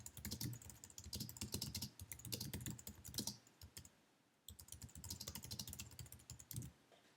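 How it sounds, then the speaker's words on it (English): Keys on a computer keyboard clatter in quick, irregular bursts of typing as a short message is entered, with a brief pause midway before the tapping resumes. "Just type in the box."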